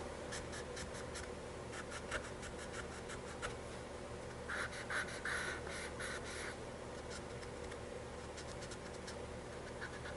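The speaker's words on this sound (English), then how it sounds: "So we're going to draw this line here." A pencil scratches along a plastic part of a Star Trek: The Motion Picture refit Enterprise model kit, marking a line in quick, close, continuous strokes with small gaps, heard alone.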